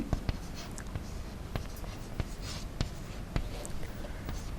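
Pen on paper writing out a chemistry equation for a redox oxidation-number problem: steady scratchy strokes with sharp taps, fairly close and alone, no talking.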